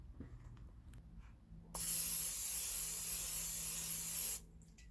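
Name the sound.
cooking spray onto ice cube trays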